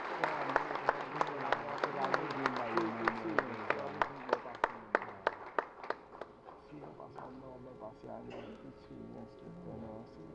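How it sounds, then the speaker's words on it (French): Audience applause after a speaker introduces a long-serving professor at a French workshop on local government financing, a dense crowd of sharp hand claps that thins out and fades after about six seconds, with faint voices beneath. "Vos applaudissements, s'il vous plaît."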